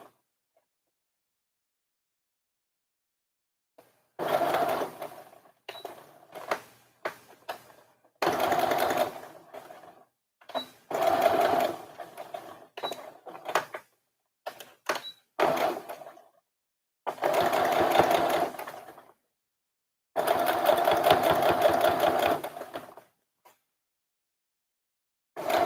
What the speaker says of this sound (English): We're basically just sewing this so that it stays in place.